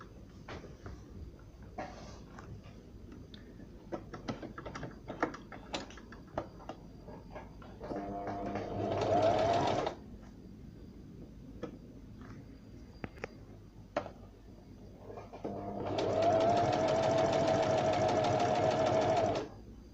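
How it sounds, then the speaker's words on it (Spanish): Brother BM 3700 sewing machine stitching at slow speed: two bursts of steady mechanical whirring, a short one and then a longer one, with light clicks and handling noises in between. "Ahí lo estamos cosiendo en una velocidad lenta."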